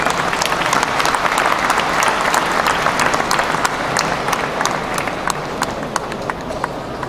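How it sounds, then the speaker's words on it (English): Sustained applause from the audience at a GTA Eid gathering with Ontario's Minister of the Environment and Climate Change, dense and steady clapping throughout with crowd noise, close and loud, fading slightly near the end. "Please give a round of warm applause."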